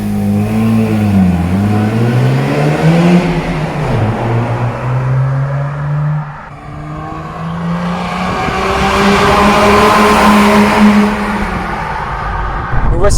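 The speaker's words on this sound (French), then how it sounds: "Parce que le moteur il fait très 2 temps" A 2007 Mazda RX-8 with a 13B rotary engine revs hard through rising and falling sweeps, sounding buzzy like a two-stroke, loud and close, with some talk underneath.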